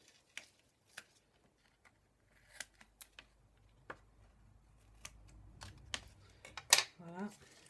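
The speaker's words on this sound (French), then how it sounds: "Je coupe." Scissors snipping paper for a stamped envelope craft, a scattering of faint, close, crisp clicks and cuts that grow busier toward the end, with quiet rustling of paper.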